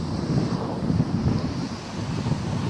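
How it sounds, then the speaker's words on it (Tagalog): Big waves roll onto a beach, a continuous low roar of surf mixed with heavy wind buffeting the microphone, no voices. "Guys oh, mga alon oh. Oh. Malalaki yan guys."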